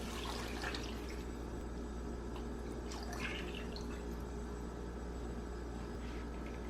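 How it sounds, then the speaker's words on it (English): Water trickles and splashes steadily into a cooking pot, about four cups, a soft continuous pouring with a few brighter splashes, close by and alone. "Put in the water, so I'm going to do about 4 cups of water."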